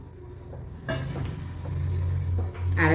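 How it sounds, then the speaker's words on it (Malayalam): Water poured into a hot cooking pan sets off a sudden loud hiss about a second in. It settles into a steady close sizzle and bubbling that swells again near the end, with no voices. "ഇനി വെള്ളം ഒഴിച്ച് കൊടുക്കാം കേട്ടോ."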